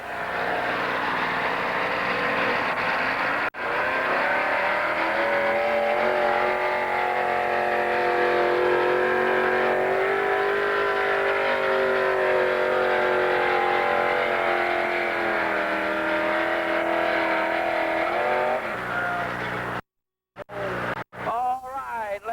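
Two-wheel drive truck engine roaring continuously at an off-road competition event in Teays Valley, a loud sustained drone with shifting pitch that cuts off abruptly near the end, with no talk over it.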